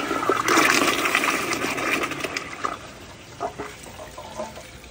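A 2013 American Standard Glenwall toilet flushes during a performance test, a loud close rush of water that peaks early and then tapers into gurgling refill over a few seconds, with no voices.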